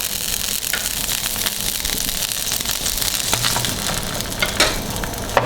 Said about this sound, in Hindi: हम तवे पे डालेंगे थोड़ा सा ऑयल,